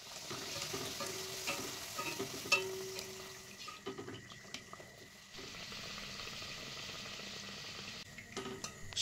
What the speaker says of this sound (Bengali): তেলটা গরম হয়ে গেছে, এবার লুচিটা আমি দিয়ে দিচ্ছি তেলের মধ্যে।